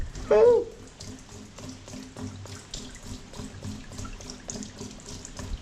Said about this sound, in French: Oh non, ça gicle partout sur mon sol là.